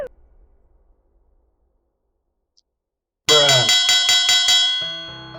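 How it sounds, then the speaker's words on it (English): A bright metallic bell rings in a rapid burst of about seven evenly spaced strikes after a few seconds of near silence, loud and close with a ringing tail. "Are you hearing those sounds over that stupid bell?"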